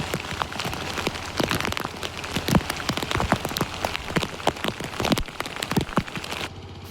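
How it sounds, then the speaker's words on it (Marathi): Heavy rain pours onto a rice paddy field, a dense, steady hiss packed with sharp individual drop impacts, loud and close throughout until it softens near the end. "बघता बघता पाऊस जोराचे येऊन गेलो"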